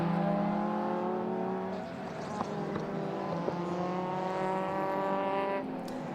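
Racing cars from an MG and British sportscar race roar past on a circuit, several engines droning loudly and steadily with shifting pitch as they pass close together, no talk over them.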